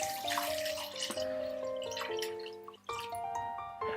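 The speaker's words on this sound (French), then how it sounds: "Vous venez placer votre casserole sur le feu. Vous y versez de l'eau jusqu'à hauteur" Cold tap water running into a saucepan on the stove, a steady close pour with a rising, shifting tone as the pan fills, under soft background music.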